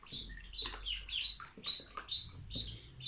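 Black ducklings kept together with a kitten give rapid, high, thin peeps in close, repeated bursts that rise and fall in quick clusters.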